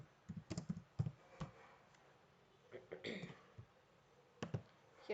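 Computer keyboard being typed on while writing JavaScript code, soft irregular bursts of key clicks and taps, fairly faint and close, separated by short pauses.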